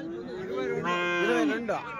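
A Holstein Friesian calf moos in a long, rising and falling bellow, close and loud, at a Sunday cattle market in Chintamani, with faint murmuring from a crowd in the background.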